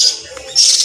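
Myna chicks, called Martinez birds, give brief high calls while being hand-fed; shrill cheeping bursts at the start and end of a short moment, close and fairly loud.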